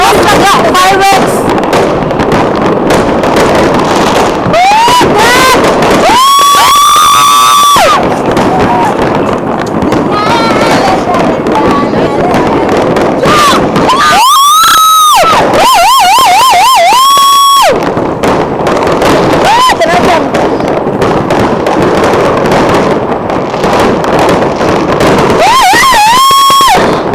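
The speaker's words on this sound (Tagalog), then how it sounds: "Always fireworks!" New Year fireworks exploding in a near-continuous loud barrage of booms and crackle, with several rising whistles, while excited voices talk and shout over the display.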